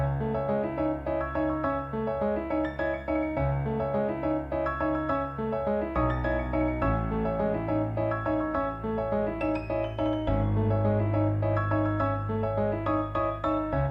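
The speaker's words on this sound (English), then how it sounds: "So I started with this piano from Contact." Noir Pure piano from Contact on its emotional preset plays a steady melodic line with sustained low notes underneath, continuous and full for the whole stretch with no voices.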